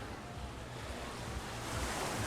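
Surf washing ashore at Skegness beach, a steady broadband rush of waves that swells slightly louder toward the end, mixed with some wind buffeting on the microphone and no talking.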